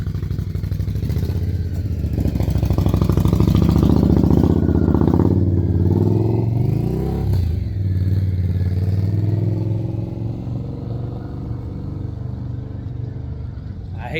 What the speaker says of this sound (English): I hate them damn motorcycles